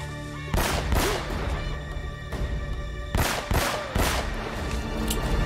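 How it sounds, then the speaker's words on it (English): Machine gun fire in the action game Uncharted: Drake's Fortune, several loud bursts of rapid shots with sharp bangs separated by brief pauses, close and forceful with no talking. "That's the machine gun."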